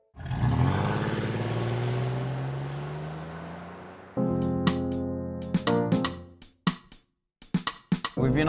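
A Kia Stinger sports saloon driving on the road, with a broad engine and road drone rising in pitch over several seconds, then breaking into choppier, tonal bursts and short gaps.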